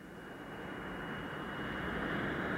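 Stealth bombers fly military raids. A steady, rising aircraft engine roar fills the scene, broad and continuous, growing slightly louder toward the end, with no speech over it.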